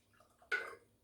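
Hot water gets poured into small gummy candy molds: a single short liquid splash, close but fairly quiet, in an otherwise still kitchen.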